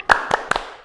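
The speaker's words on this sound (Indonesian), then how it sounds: "Yuk kita contohkan tepuk semangatnya dulu ya" Three crisp, evenly spaced hand claps of the tepuk semangat clapping game at a Sunday school service, close and sharp, with no talk between them.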